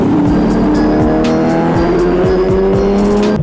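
Sport motorcycles roar past one after another in quick succession, each pitch sweeping down as it goes by, a continuous racing drone throughout.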